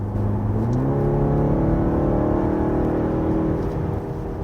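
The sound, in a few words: car engine sound while driving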